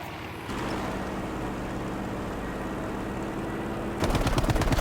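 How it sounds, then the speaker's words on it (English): Gunfire in Battlefield 5 aimed at the player's fighter plane over a steady roaring aircraft engine, with a rapid machine-gun burst rattling in near the end, loud and continuous with no speech. "They're still shooting at me."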